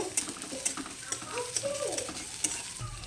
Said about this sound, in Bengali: এখন এই ফাঁকা জায়গাটা দিয়ে একটু আদা রসুনটাকে ভেজে নিব